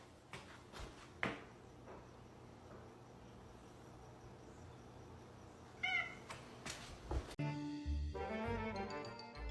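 Cat meowing with a drawn-out call midway against a backdrop of chirping crickets, followed by soft music.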